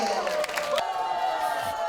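Crowd applause and cheering greet a guest singer at a singing class, a dense wash of clapping and shouts running steadily through the short stretch with a tone or voice threading underneath.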